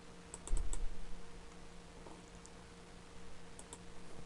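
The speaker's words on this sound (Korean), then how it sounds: "컨트롤 R이라고 눌러주시고요." A computer keyboard shortcut, Ctrl+R, is pressed during illustration software work, giving a few quiet, close key clicks early on, followed by faint scattered ticks over a low steady background hum.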